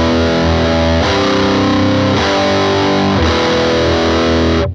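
A Blackstar guitar amplifier, Silverline Deluxe 100W 1x12" or HT-20R MKII, set to one of its American or British voicings, plays distorted guitar: three sustained chords ring loud, then cut off abruptly at the end.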